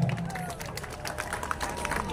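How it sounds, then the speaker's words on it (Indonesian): A dense crowd applauds at an outdoor political rally on a football field in North Aceh, a steady wash of clapping and crowd noise with a voice over a loudspeaker faintly underneath. "Beri tepuk tangan."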